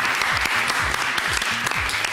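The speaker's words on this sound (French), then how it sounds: "Et on l'applaudit très fort." Studio audience at a French talent contest applauds contestant Chris, loud continuous clapping with a host's voice talking over it.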